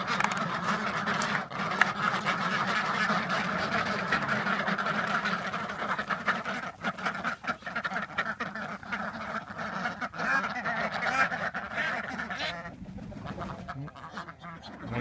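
A crowd of farm ducks quacks and chatters continuously at dawn, eager to be let out, a dense, steady racket close by with no talk over it.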